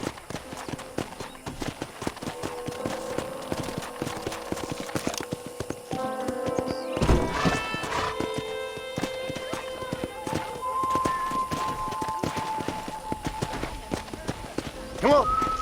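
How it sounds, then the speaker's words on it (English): Hooves clatter in a quick, continuous rhythm as a horse gallops in Red Dead Redemption on Nintendo Switch 2, with voices talking over the galloping and occasional game tones. "let's see if you can still ride a horse"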